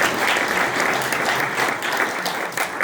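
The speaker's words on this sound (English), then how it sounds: "let's just give him a round of applause again" An audience at a veterans group event honoring Tuskegee Airmen claps in a short, full burst of steady applause that fills the whole moment without voices.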